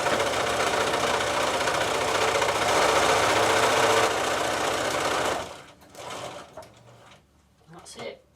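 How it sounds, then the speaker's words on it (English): A sewing machine stitches a cushion frill along the raw edges at maximum stitch length, a steady, close mechanical whirring for about five seconds before stopping, followed by faint handling sounds and brief speech. "Line up the foot with the edge of the raw edges and stitch all the way round."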